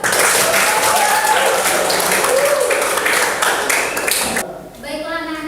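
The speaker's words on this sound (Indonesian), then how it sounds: "Tepuk tangan untuk Fatur" Students in a tenth-grade maths classroom clap loudly and rapidly for a classmate for about four seconds, then the clapping stops and a teacher begins speaking.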